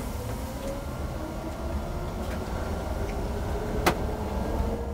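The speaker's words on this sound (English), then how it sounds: "I will drive my first meters ever with a European manufactured electric coach." Interior of a MAN Lion's Coach 14 E electric coach pulling away on a test track in Ankara: a steady low rolling rumble with a faint rising whine and one brief sharp click, no talk.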